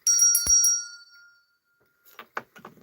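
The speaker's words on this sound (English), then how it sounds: "We are sending out the bell of love." A single bell rings out bright and clear, then its shimmering tone fades away over about a second, followed by a few soft taps and faint rustling.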